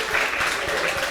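Audience applause at a 2D animation talk in Chile, honouring the event's organiser: steady clapping from a modest crowd, fairly close, continuous through the moment with no voices over it.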